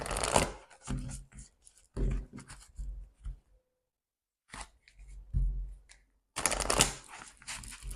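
Oracle cards shuffled and drawn during a spiritual card reading, with bursts of dense riffling and soft card handling broken by a pause of near silence, close and fairly quiet.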